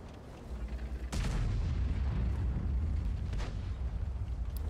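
Tank cannon firing in the World of Tanks game: one heavy, close boom lands about a second in, followed by a dense, sustained rumble of battle noise for the rest of the stretch.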